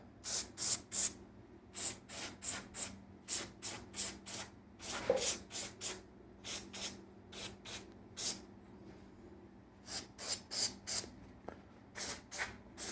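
Short sharp aerosol spray bursts from a can of electronics cleaner on an Xbox One X console's ports, repeated in quick clusters with brief pauses between, close to the listener and fairly quiet overall.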